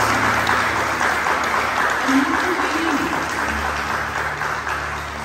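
A church congregation applauds during a sermon on inner healing and restoration, a loud continuous roar of clapping that fills the room and tapers slightly toward the end, with faint voices underneath.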